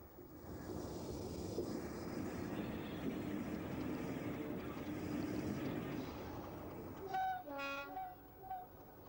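A Class 76 EM1 electric locomotive rumbles steadily and grows closer as it arrives at Retford station, with a horn sounding in short tones near the end.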